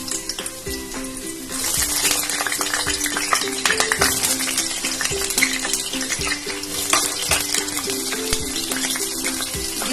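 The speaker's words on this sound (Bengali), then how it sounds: "এবার এর মধ্যে আলুগুলো দিয়ে দেব।" Potatoes hit hot oil in a pan and crackle into a loud, steady sizzle, dense with spitting pops, with stirring scrapes now and then across the whole stretch.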